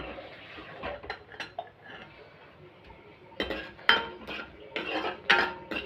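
A spoon scrapes and clinks against a pan as egg sambar gravy masala is sautéed, with soft stirring at first, then louder, sharper metallic knocks toward the end.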